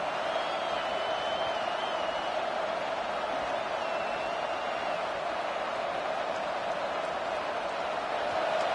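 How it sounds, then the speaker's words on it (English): Football stadium crowd at a Ducks game, a steady distant roar of many voices holding at an even level throughout, with a faint whistle-like tone drifting over it and no clear cheering peaks. "This crowd bringing the energy and noise early"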